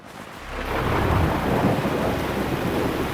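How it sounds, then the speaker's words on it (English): Heavy rain pouring during the Townsville floods, with a deep rumble of thunder swelling in after a brief quiet start and then a dense, loud, steady downpour. "This is the worst bit of rain I've seen being out here for 17 years."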